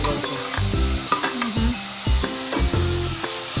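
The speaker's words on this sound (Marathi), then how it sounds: "तव्यावर चांगला फ्राय करून घ्या." Ripe banana slices fry in ghee on a griddle, a soft sizzle under tonal background music with occasional light scraping touches.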